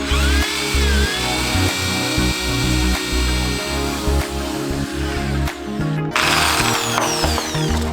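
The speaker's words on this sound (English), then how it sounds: "Now to drill these stupid rotor screws out," A power drill whines and grinds continuously at close range, drilling out brake rotor screws, its pitch wavering as it bites into metal, with a brief break near the end.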